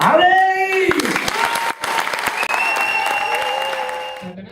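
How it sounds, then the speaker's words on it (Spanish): Audience applause for a performer at a comedy monologue show, a steady burst of clapping under loud, drawn-out cheering voices that fades near the end. "fuerte, fuerte, fuerte el aplauso para ¡Abrey!"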